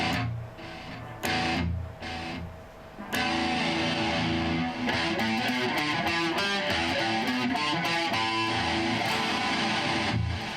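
Electric guitar notes ring out with repeating delay echoes that blur into a shimmering, layered wash, building and filling the space after a sparse start.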